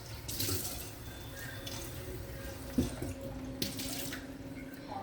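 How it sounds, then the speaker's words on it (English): A cooking pot is rinsed out under a running kitchen tap, with water splashing steadily for several seconds and a couple of brief knocks against the metal. "And here I go, rinsing my pot out."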